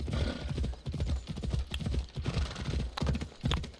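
Horse hooves clip-clop in a quick, steady rhythm while riding in Assassin's Creed Odyssey, close and continuous throughout, with no talk over them.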